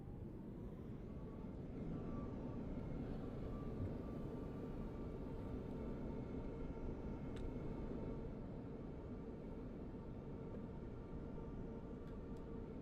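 A widebody airliner touching down at Munich in Microsoft Flight Simulator 2020, thrust reversers deployed: a steady, loud, broadband engine roar and rumble holds without a break, with no voices.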